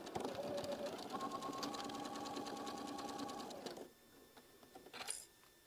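A sewing machine runs a straight quarter-inch quilt seam, a steady close whirring hum for nearly four seconds, then stops, leaving quiet room tone and a brief handling rustle.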